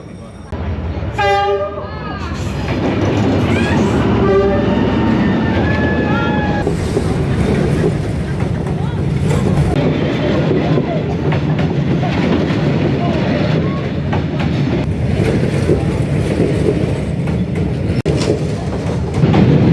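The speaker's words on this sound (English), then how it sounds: "we're sitting here waiting for the train to come past" A train in Hanoi, Vietnam roars past very close, its horn blaring early on, then a sustained heavy rumble and rattle of wagons going by for a long stretch.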